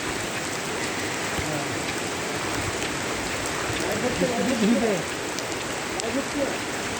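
Steady, dense rainfall pattering on surfaces, with a voice speaking faintly underneath partway through.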